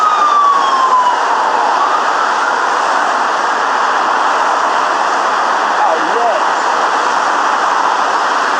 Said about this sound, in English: there's a police car coming the other way